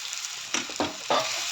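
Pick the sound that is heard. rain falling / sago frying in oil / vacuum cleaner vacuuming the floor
sago frying in oil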